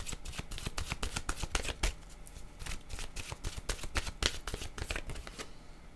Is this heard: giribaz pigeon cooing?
no